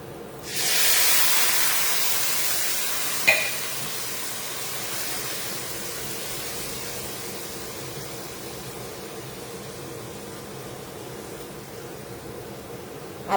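Water hits a hot pan of browned vermicelli and bursts into a loud, steamy hiss that then settles into a steady, slowly fading sizzle, broken by one brief clink partway through.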